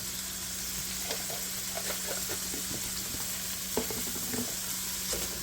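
Potatoes and cabbage fry in a pan with a steady close sizzle, while a utensil stirs and scrapes through them in a handful of short, irregular strokes.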